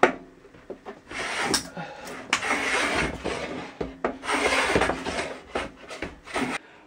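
A hand plane rasps over a wooden window frame of a 1936 house in long, harsh strokes, several passes in a row with brief pauses between them, close up.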